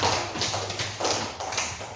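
A small classroom group claps for a student who answered, giving a steady patter of scattered hand claps that runs for a couple of seconds at moderate, fairly even loudness.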